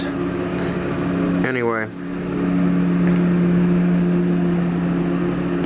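A lawnmower drones steadily nearby, a constant engine hum with a buzzing tone that runs throughout while someone briefly speaks over it.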